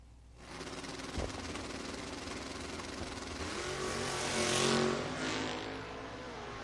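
Drag racing at the FRBR Coastal Clash: a 69 Chevrolet Nova and a Vega station wagon launch side by side and pull wheelies. Their engines roar loudly and climb in pitch as they accelerate, with a sharp thump near the start.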